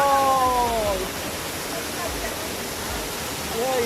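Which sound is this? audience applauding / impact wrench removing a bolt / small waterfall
small waterfall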